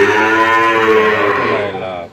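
A Barbie breed cow lows in one long, loud, close moo that holds steady for about two seconds before fading, with no other voices.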